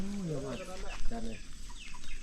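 Chicken clucking in a rural Thai village setting, a few short pitched calls early on, fairly close, over light background noise.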